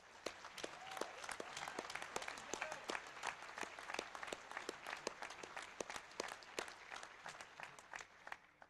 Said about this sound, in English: So let's give those guys a huge round of applause.